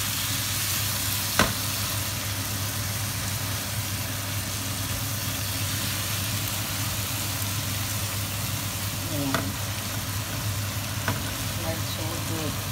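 Squid adobo cooked in soy sauce sizzles steadily in a pan for the whole stretch, with a few sharp scrapes and taps of a utensil stirring it. A low background hum sits underneath.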